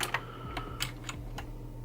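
Keys clatter on a computer keyboard in a handful of separate, crisp clicks at an uneven pace, close by and moderately quiet, with no voices.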